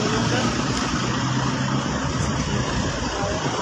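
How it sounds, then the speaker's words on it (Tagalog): Steady motorcycle engine idle hums close by, a constant low drone with no change in pitch across the short stretch, after a crash with gas leaking. "patayin mo yung makina mo, tumutulo yung gas"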